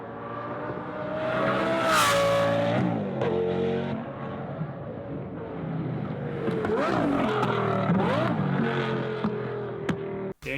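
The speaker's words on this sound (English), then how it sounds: "I think this got a straight through exhaust system, straight piped. It sounds amazing." A Lamborghini V10 with a straight-piped exhaust roars past in a flyby, loud and close, revving hard and climbing in pitch, easing, then surging again before cutting off abruptly.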